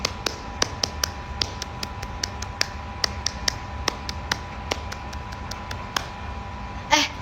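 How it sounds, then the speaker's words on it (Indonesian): Scout-style rhythmic clapping in the Indonesian tepuk pramuka pattern, sharp close claps in a patterned sequence of bursts spread across the clip, fairly soft in a quiet room with a brief louder rustle near the end. "Tepuk pramuka."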